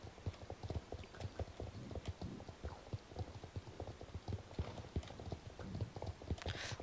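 Hooves clip-clop steadily and closely as a horse walks along in the online game Star Stable Online, a dense, even rhythm of sharp knocks continuing throughout with no talk.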